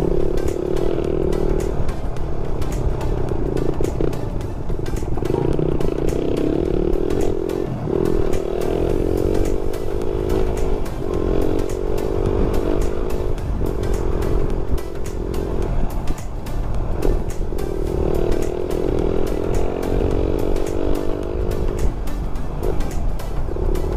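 A Suzuki Raider R150 motorcycle fitted with an Apido power pipe exhaust roars loudly and continuously while riding, its engine pitch rising and falling through repeated revs and gear changes, with no talking.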